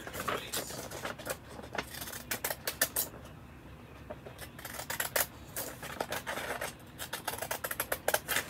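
Scissors snipping around a paper craft piece, quick irregular clusters of small close cuts with brief pauses and faint rustling between them; no talking.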